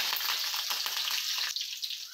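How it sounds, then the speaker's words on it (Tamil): Mustard seeds and green chilies sizzle steadily in hot oil for tempering, a loud continuous fry with faint crackles and pops, heard alone up close. "ஸோ கொஞ்சமாக கடுகு சேர்த்தாச்சு, ஒரு ரெண்டு பச்சை மிளகாய் நறுக்கிறது"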